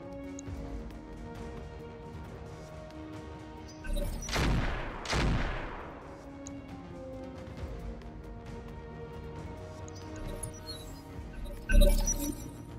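Gunfire in the mech combat game Battletech with the Roguetech mod: two loud bursts of weapon fire close together, then a sharp crack later on, over a steady low background of game sound, with no talking.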